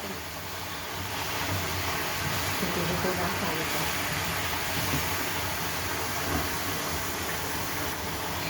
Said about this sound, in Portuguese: Estamos refogando a carne.